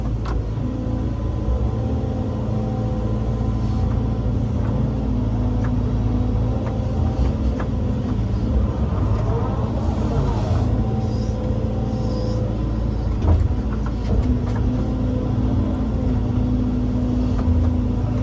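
A truck engine idling and running beside a muddy, overgrown river being cleared by a hydraulic excavator, a steady loud low rumble throughout with no talking.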